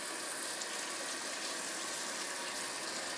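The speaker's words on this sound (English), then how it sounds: "come over here to the sink. So with some cold water," Cold water runs steadily from a kitchen sink tap, a constant close hiss and splash that carries on with no breaks and no voices.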